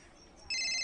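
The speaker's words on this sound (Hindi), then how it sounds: "मेरा फोन बज रहा है" A bright electronic phone ringtone starts abruptly halfway through, loud and steady after a quiet moment of background hum.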